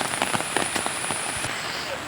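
Rain falls at an outdoor nature park, a steady close patter with sharp drop impacts striking a nearby surface, loud and continuous throughout.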